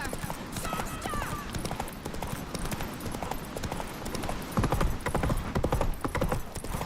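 Roach, a horse in The Witcher 3: Wild Hunt, gallops with a fast, steady clip-clop of hooves that runs the whole time. It sits under game music and noise, with a louder burst of hooves near the end and no speech.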